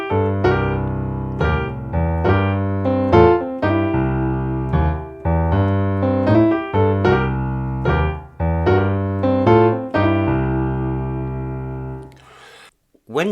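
A solo piano plays a bluesy phrase of repeated chords and notes in a lively rhythm, ending with a short burst of noise.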